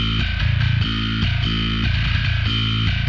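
Soloed metalcore bass tone with saturation and a filter, blended and phase-aligned with a main bass, playing loud, steady chugging low notes in a rhythmic pattern with gritty upper harmonics.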